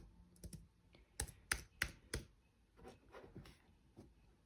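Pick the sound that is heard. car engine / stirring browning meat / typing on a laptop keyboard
typing on a laptop keyboard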